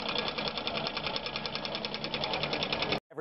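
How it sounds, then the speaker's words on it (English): A small Stirling engine running on liquid nitrogen gives off a fast, even mechanical clatter, steady and close, before cutting off abruptly near the end. "a video of a Stirling engine being run on liquid nitrogen"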